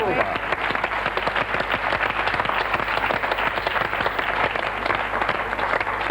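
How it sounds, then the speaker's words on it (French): Sustained audience applause on a 1996 French television game show set, dense and steady clapping from a crowd filling the whole stretch, fairly loud and even. "On peut applaudir Colette."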